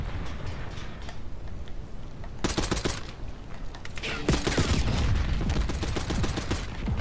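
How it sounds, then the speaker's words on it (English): Rapid gunfire in the shooter game Black Ops 6, bursts of shots crackling through a wall, growing louder and denser in the second half over a steady game background. "How are they shooting at me through the wall?"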